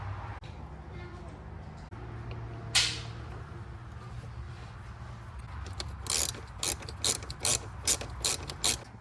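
A ratchet clicks in rapid short bursts while a cleaned mass airflow sensor is reinstalled on a Ford F150, the close metallic ticking repeating rhythmically after some quieter handling.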